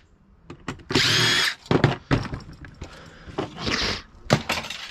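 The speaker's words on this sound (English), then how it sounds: "My drill." A power drill whirs in two short bursts, one near and loud and a later, softer one, between clattering knocks and thuds of handling in a cluttered home workspace.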